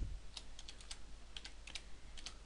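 Keys clicking on a computer keyboard as a word is typed into a spreadsheet row, quiet close taps in short uneven bursts over a low steady hum, with no talking.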